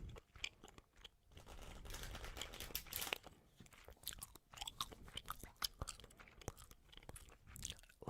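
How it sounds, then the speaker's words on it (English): A deck of cards is shuffled close up, with rapid crisp riffling and snapping bursts, fairly quiet, no speech. "give this deck a good shuffle"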